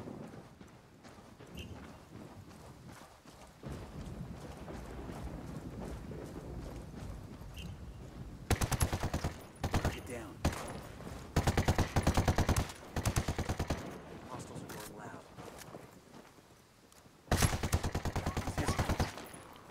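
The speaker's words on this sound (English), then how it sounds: "Taking fire, fucking hell!" Gunfire in the tactical shooter Ghost Recon Wildlands during a Ghost War PvP match: bursts of rapid automatic shots come in several loud clusters after a quieter stretch, with some scattered single cracks between them.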